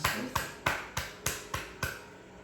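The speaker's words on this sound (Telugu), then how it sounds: "ఈ చక్కని పాటకు, ఈ చక్కని భావానికి చప్పట్లు కొడదాం" Applause in six evenly spaced sharp bursts, a slow rhythmic clapping at moderate distance after a talk explaining an Annamayya devotional song, with no voices over it.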